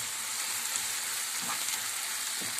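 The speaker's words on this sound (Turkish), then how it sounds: "Evet soğanlarım kavruldu." Onions frying with spices, including red pepper flakes and black pepper, in a pan for a potato börek sauce, a steady close hiss and sizzle with a few faint stirring knocks and no voices.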